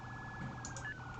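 Police car siren in the Roblox game Emergency Response: Liberty County, a faint, steady electronic wail with a slight pitch drift over a low background hum.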